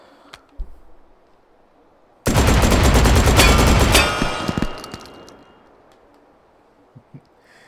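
The Scalpel-LE gun fires in the VR game Hot Dogs, Horseshoes and Hand Grenades, a sudden loud burst of rapid shots lasting about two seconds, then a fading echo and a few faint clicks.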